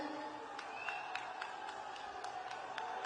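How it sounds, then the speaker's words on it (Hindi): A crowd claps at a political rally in Haryana, with faint, roughly rhythmic claps repeating under a distant crowd murmur and a steady background tone. "ताली बजाओ सतीश जी के लिए"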